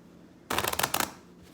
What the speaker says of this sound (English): I am going to shuffle the deck 3 times